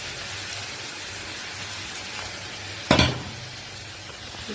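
Hot fish masala in a pan hisses with a steady sizzle, then a sudden loud burst of spitting as water is poured in, fading back to a gentler bubbling sizzle.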